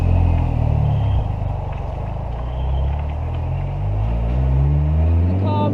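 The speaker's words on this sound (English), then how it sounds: "you can have a nice listen of the beautiful supercharger whine" A MINI Cooper R53 drives along country lanes with its engine droning low and a thin supercharger whine rising and falling as it accelerates, heard from inside the car at close range.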